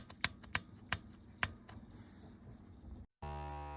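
Keys pressed on the keyboard of an HP 3497A instrument, giving several sharp, separate clicks at uneven intervals that then fade out. A short silence follows, then a steady tonal electronic hum.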